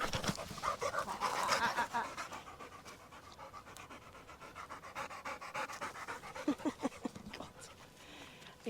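A dog named Rosie pants rapidly and close on an allotment plot, breathy rhythmic huffs that swell loudly at first, ease off, then return with a few sharper gasps near the end, with no talk.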